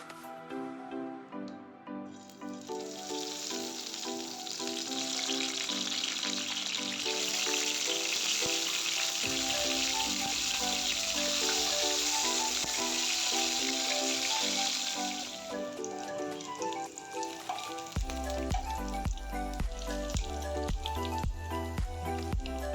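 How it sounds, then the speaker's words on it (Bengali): Seasoned eggplant fries in hot oil, giving a steady sizzle that runs for a long stretch, with music playing over it and no talking. "বেগুনটাকে আমি এখন ভেজে নেব"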